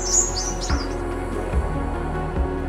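A crimson sunbird gives a short burst of thin, high chirps near the start, then falls silent while a low, steady tonal background continues underneath.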